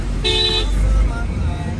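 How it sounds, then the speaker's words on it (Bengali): A single short car horn toot sounds briefly over low road and engine noise on a difficult road with fallen branches. "Horn they."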